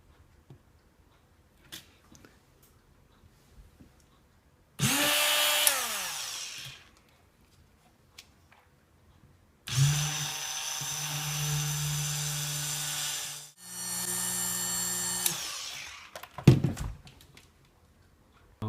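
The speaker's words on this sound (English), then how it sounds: "just using the drill, put on high speed, and we can drill the hole." A power drill on high speed whirs up in three separate bursts, drilling a hole in a Tamiya Mini 4WD carbon body part, rising to a high whine and winding down between them, with a few clicks and knocks around.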